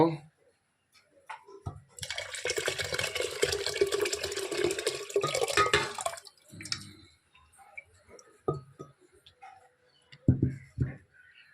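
Liquid pours into a bowl in one steady, splashing stream lasting about four seconds, with drips and light clinks before and after while preparing a Holi special ghota drink.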